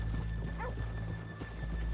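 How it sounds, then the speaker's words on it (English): Horses in the Red Dead Redemption 2 video game clip-clop steadily on a town street, with a short whinny partway through over a constant ambient hum. "let's leave the horses here off the main drag"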